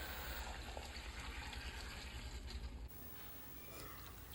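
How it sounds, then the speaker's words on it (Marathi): Lukewarm water pours steadily into a pot of vegetable mixture for a broad beans gravy, a continuous gushing fill that drops slightly in tone partway through, no talking. "सर्व मिश्रण एकत्र करून झाल्यानंतर त्यामध्ये कोमट पाणी टाकून घेऊया।"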